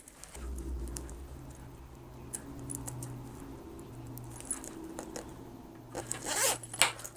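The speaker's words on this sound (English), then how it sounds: "and put our zipper pull on" A zipper pull slides along the zip of a fabric cross-body bag during sewing, faint and close with small scattered ticks and rustles, ending in a louder zipping burst.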